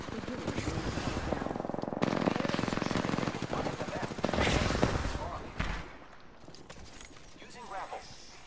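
Automatic gunfire in the Apex Legends battle royale game, Season 4, sounding as dense rapid bursts mixed with game effects and loud speech for most of the clip, easing toward the end.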